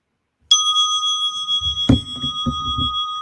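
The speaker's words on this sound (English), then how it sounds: "allow the vibration of that bell to wake up and pull you deeper inside" A meditation bell is struck once and rings out with a clear, sustained shimmering tone that lingers under a few soft low thumps and rustles.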